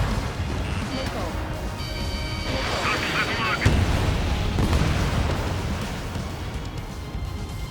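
Air-to-air missile launch in the combat flight game Ace Combat 7, a sudden whooshing burst over dense jet engine roar and cockpit noise, swelling briefly then fading back into the steady drone.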